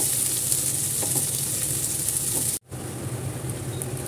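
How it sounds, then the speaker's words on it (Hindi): Finely chopped medium onion fries with garlic in a pan, giving a steady, even sizzle and crackle that stays close and constant, briefly cutting out for a moment before resuming. "इसको भी लहसुन के साथ भून देंगे।"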